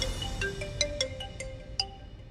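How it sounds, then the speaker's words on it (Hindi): A phone ringtone plays a short, bright melodic tune of quick separate tones, clear and moderately loud, ringing alone without speech. "दुर्गा दी का फोन।"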